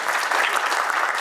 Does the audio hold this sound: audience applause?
yes